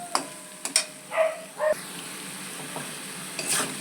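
Boiled eggs and potatoes being sautéed in a pan, a light sizzle broken by knocks and scrapes of a spatula against the pan, no talking.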